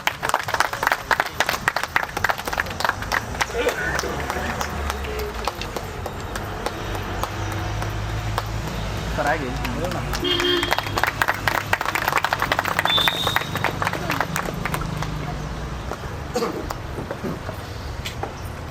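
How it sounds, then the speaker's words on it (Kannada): An audience claps to honour a guest at a prize draw event held by a local enterprise, giving steady, dense applause that continues throughout, loud and close and mixed with crowd noise. "ಎಲ್ಲ ಚಪ್ಪಾಳೆ ಮಾಡೋ ಮುಖಾಂತರ ಅಭಿನಂದಿಸಬೇಕಾಗ"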